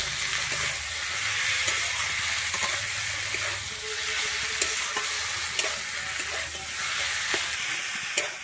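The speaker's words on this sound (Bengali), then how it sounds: "দিয়ে কিন্তু আমি আবারও একটু ভালোভাবে নেড়ে নিচ্ছি।" Crushed fried fish head is stirred into a Bengali banana stem curry in a hot pan, giving a strong continuous sizzle broken by soft scraping strokes of a spoon, with no talking.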